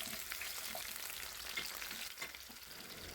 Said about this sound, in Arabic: حطيت شويه زيت صغيرين لان طبعا الصدق بيبقى فيه نسبه دهون، وبسخن الزيت كويس جدا وبعد كده انزل